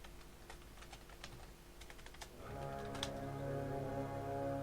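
Rapid clicking keystrokes on a computer keyboard fill the first couple of seconds, then fade under a louder steady background hum.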